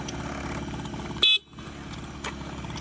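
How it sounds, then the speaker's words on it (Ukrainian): A single short, sharp horn toot from a carbureted Honda Dio AF-34 scooter cuts through a running engine idle, which continues steadily afterward. "Сигнал також працює."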